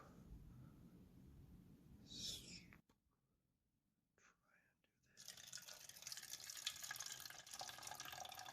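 Water is poured into a cup in a plant-care setting, a close, steady pour in two bursts with a brief pause between, soft whispering nearby.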